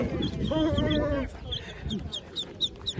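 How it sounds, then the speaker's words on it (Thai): Newly brought-home ducks at a Thai home quack in short, repeated calls. They come right after someone briefly speaking, then continue in scattered bursts at moderate distance. "มีเป็ดด้วย"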